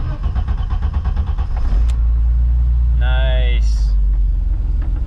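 A BMW E30 engine fitted with individual throttle bodies cold-starts: a whirring crank catches into a loud, close, lumpy idle that keeps running steadily, with a short rising tone partway through and a brief spoken word over it.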